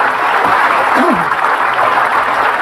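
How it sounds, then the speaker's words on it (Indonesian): A TV talk show studio audience claps loudly and steadily throughout, with a brief voice heard faintly under the applause near the middle. "kasih tepuk tangan dulu buat mereka"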